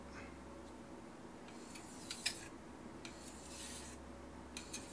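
Kitchen knife drawn across a fine 2000-grit Shapton Pro whetstone in a few light finishing passes, faint soft rasping strokes with small scraping clicks over quiet room hum, no speech.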